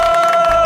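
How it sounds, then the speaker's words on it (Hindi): A crowd claps and cheers for a newly elected college union president, a brief loud burst of mixed clapping and voices with a sustained tone running underneath. "तालियां!"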